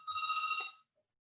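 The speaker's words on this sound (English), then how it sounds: "you guys hear the telephone ringing?" A telephone rings in a classroom with a single short electronic trill lasting under a second, fairly faint, followed by silence and no voices.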